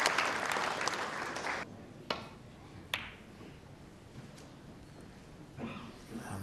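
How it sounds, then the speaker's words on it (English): At the Crucible during a World Championship snooker semi-final, the crowd applauds before Ding Junhui breaks off, a burst of clapping that fades quickly into quieter hall ambience with a few sharp taps. "this Crucible crowd applauding before Ding broke off"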